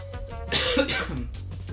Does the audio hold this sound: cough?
yes